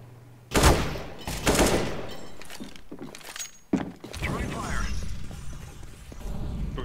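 Gunfire in the video game CS:GO, with several loud bursts of shots and mechanical clicks close up, layered under people talking.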